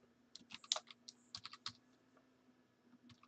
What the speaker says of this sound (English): Let me type it in chat.